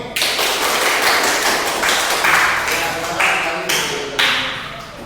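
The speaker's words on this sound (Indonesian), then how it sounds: "kita tepuk tangan untuk kelompok ini" A classroom of students applauds a group after its presentation, loud and close, the clapping coming in several surging waves that start and stop in a patterned rhythm.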